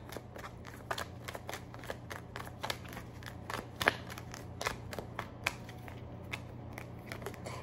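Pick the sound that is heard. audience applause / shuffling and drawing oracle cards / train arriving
shuffling and drawing oracle cards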